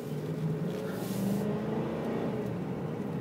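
A 2005 Ford F150 XLT crew cab 4x4 pickup with a recently replaced left front hub drives along, its engine holding a steady, continuous drone with a brief rise in revs, close and constant throughout.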